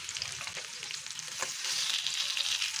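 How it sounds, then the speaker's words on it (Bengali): Tandoori chicken fries in a pan until slightly charred, a continuous near sizzle that swells louder toward the end, dotted with small pops and clicks, with no speech. "একটু পোড়া করে ভেজে নিব"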